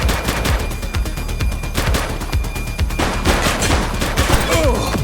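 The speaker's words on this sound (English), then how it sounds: "He's shooting!" Dense, loud gunfire rattles through a police shootout in the video game The Precinct: rapid, overlapping shots and automatic bursts crackle almost without pause, close and forceful throughout.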